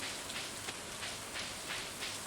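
Steady rain pours down in a fishing video game, a broad continuous hiss with faint patter, moderately quiet and alone with no voices.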